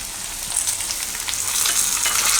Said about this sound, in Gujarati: તો થોડીક વાર આમાં ટમેટાં પાકવા દઈશું.